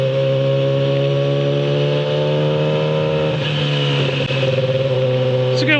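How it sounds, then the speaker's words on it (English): A BMW motorcycle fitted with a loud aftermarket exhaust rides through town, its engine a steady, strong drone close by that rises and falls slightly with throttle, loud and continuous throughout. "it just sounds so loud with this exhaust system"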